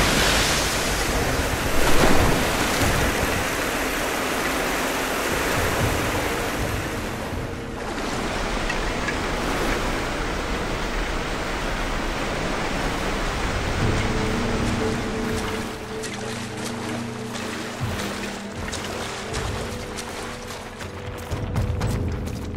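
Rushing water rises in Rise of the Tomb Raider, a steady loud broadband roar like surf or wind that lasts throughout, with low rumbling and faint tonal hums in the later part.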